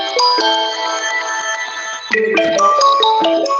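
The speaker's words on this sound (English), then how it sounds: "Somebody's phone." A mobile phone rings nearby with a melodic electronic ringtone, a bright tonal phrase that shifts pitch partway through and carries on without any voices.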